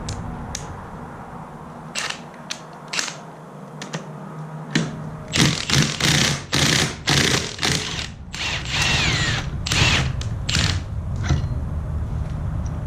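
Impact wrench removing a flywheel from an engine with a worn-out crankshaft, loud repeated hammering bursts in close succession, with quieter clicks and handling noise before them.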